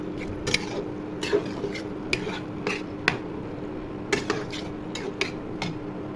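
A spoon stirs vegetable curry in a metal pot, giving a string of sharp clinks and taps that come at irregular intervals. A soft hiss of cooking runs beneath them.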